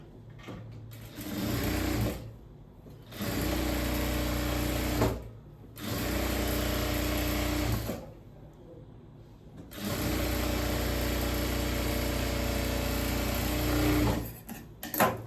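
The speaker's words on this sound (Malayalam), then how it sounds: "ഇനി നമ്മൾ ഈ കാലിന്റെ ഈ വശം തയ്ച്ചു കൊടുക്കണം" A sewing machine runs in four steady bursts while stitching the leg seam of palazzo pants, each run a close, even whirring hum separated by brief pauses, with no talking.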